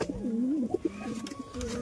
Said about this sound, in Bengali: চলো গাইস, পায়রাগুলোর জন্য খাবারটা নিয়ে এসে পায়রাগুলোকে খেতে দিয়ে দিই এখন।